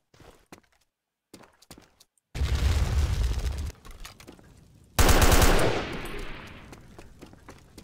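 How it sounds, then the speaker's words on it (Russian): Scattered clicks give way to a heavy roaring blast as a helicopter explodes in the video game Athena Sword, then a second sharp, loud explosion with crackling debris that slowly fades. "вертолет взрывается."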